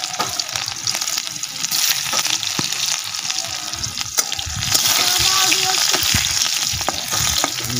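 Onions frying in a pan produce a loud, dense, crackling sizzle with occasional stirring clatter, steady and close throughout.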